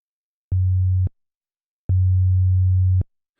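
Two low, pure sine tones from an FM8 synth patch with twin sine carriers play as separate held notes, a short half-second one then a longer one, each starting and stopping with a click against silence.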